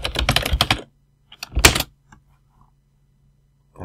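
Short burst of quick keystrokes on a computer keyboard while entering a greeting into a Scratch project on a Raspberry Pi, followed by a pause and a few isolated taps, close and fairly loud.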